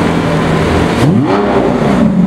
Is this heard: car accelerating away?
yes